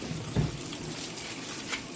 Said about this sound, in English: we're going to rinse them off again